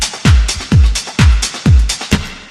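A drum groove drenched in long reverb with a two-second decay, with kick and snare hits about every half second smearing into a washy tail, loud and alone.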